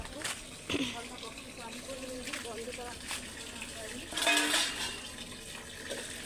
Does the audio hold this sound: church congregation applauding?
no